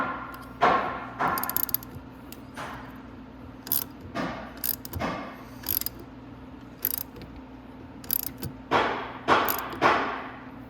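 A hand ratchet tightens the bolts on the top end of a Venom X22gt 250cc engine, with repeated bursts of close, rapid clicking separated by short pauses.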